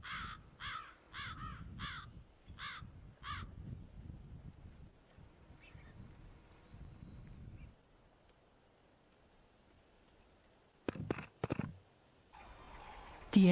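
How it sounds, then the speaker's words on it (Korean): Cinereous vultures compete for food while wintering in the DMZ, giving a run of harsh, evenly spaced calls before quieter scuffling, then a few sharp, loud bursts near the end. "먼 길 여행에 허기진 독수리들은 먹이 경쟁이 치열하다."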